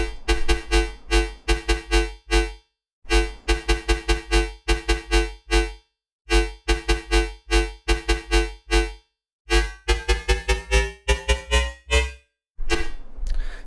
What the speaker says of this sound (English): we're going to be making a metallic dubstep-y kind of bass that sounds like this